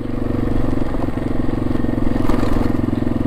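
An XT250 motorcycle being ridden, its engine giving a loud, steady, close drone with a rough pulsing beat that holds evenly throughout.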